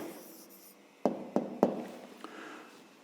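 A pen scratches out the answer to a fifth-grade maths problem, a few quick strokes with a faint tap or two, close by in a quiet room.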